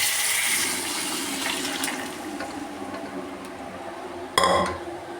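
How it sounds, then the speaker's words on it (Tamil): Water splashes into a pot of drumstick leaf curry, a soft running pour that tapers off, followed by a sharp clink of a vessel near the end. "தேவையான அளவுக்கு தண்ணி சேர்த்துப்போம்"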